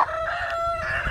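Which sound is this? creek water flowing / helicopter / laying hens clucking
laying hens clucking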